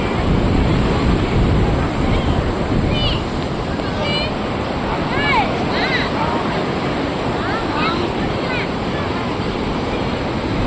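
Sea waves wash up a beach in steady, loud surf, with wind buffeting the microphone and faint distant voices under the roar of the water.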